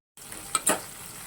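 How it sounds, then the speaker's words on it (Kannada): Tempering of mustard seeds, curry leaves, onion, green chillies and asafoetida in a pan, heard as a short, fairly quiet sizzle with two sharp crackling bursts close by, brief and without talk. "ಒಂದು 5 ಮಿನಿಟ್ಸ್ ಚೆನ್ನಾಗಿ ಫ್ರೈ ಮಾಡ್ಕೋಬೇಕು."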